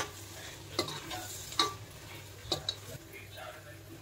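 Mixed vegetables of carrot, peas and capsicum being stirred together in a pan, a few sharp scrapes and knocks of the spoon standing out over a soft, steady sizzle, close by.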